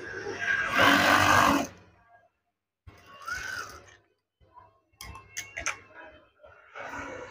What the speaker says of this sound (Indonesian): Setelah dipotong, jahit ke bagian atas tirai kembali.